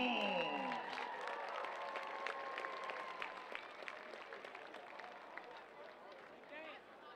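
A crowd applauds at a high school football stadium, scattered claps and cheers spreading over a broad background of crowd noise, with a loudspeaker voice at the start and the clapping thinning out toward the end.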